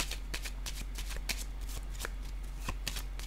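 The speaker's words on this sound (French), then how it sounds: "Je vais déposer une carte ici." Tarot cards are shuffled and laid down close by in a quiet room, a series of crisp papery snaps and flicks at an uneven rhythm over a low steady hum.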